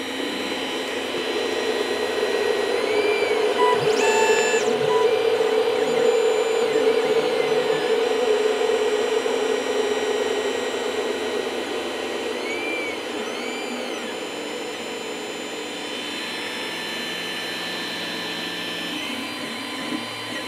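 A 3D printer running a print job, giving a steady mechanical whir with faint high motor whines that shift in pitch, continuous and close with no talk over it.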